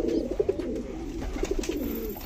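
Pigeons coo softly in low, throaty bursts, a few calls repeating close by over a faint background hum.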